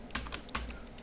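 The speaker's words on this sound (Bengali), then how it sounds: "CTRL-Shift এন্টার দিয়ে দিচ্ছি" Three or four crisp computer keyboard key presses for a Ctrl-Shift-Enter shortcut, close and fairly quiet, spaced irregularly over about a second with no talking.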